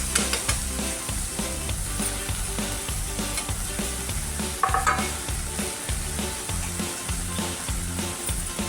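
Onion and tomato with onion-garlic masala, coriander powder and turmeric fry in oil for a spicy Maharashtrian matki usal, a steady loud sizzle broken by a regular scraping rhythm of a spoon stirring the pan, close up and without talk.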